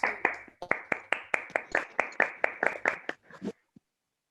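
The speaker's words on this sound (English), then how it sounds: "Round of applause." Steady rhythmic clapping for the third-place winner at a Karachi Toastmasters humorous speech contest, about a dozen evenly spaced claps from a small group, close by, then slowing and stopping.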